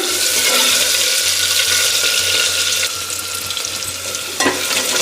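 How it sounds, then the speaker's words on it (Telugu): Onions and curry leaves sizzle in hot oil for a tempering, a steady loud frying hiss that runs throughout with a brief clatter near the end and no talking. "పోపు అయితే బాగా వేగాలన్నమాట"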